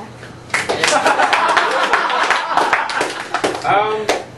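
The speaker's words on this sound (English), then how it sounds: "By applause, who's not really a Bush fan?" A stand-up comedy crowd in a Chapel Hill club claps and laughs in answer to a question put to them, a mixed burst of applause and chuckles rising after a brief pause and continuing, fairly close and lively, with some voices in it.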